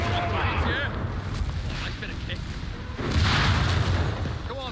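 Heavy artillery fire in the World War II strategy game Company of Heroes 3, deep booming impacts and rumbling blasts layered under battlefield noise while a voice talks over it.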